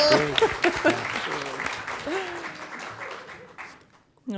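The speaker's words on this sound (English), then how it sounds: "Another round of applause for our volunteers." An audience applauds volunteers at a spring fling event, with a burst of clapping from a crowd that fades away over a few seconds while a voice talks over it.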